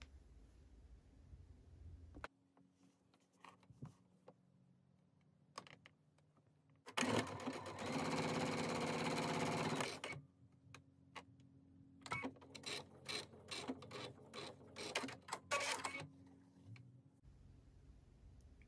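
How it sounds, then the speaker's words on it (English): A sewing machine top stitching a quilt block rattles in quick bursts of rapid stitching, with a long loud run in the middle and shorter ticking runs later, close and otherwise quiet. "we'll rotate it around and we'll top stitch the opposite side."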